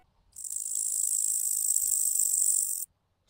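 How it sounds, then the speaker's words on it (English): Grasshoppers sing an evening song, a dense, high, continuous shrill buzz that starts abruptly, holds steady and loud for over two seconds, then cuts off into near silence. "if you hear the grasshoppers singing their evening song"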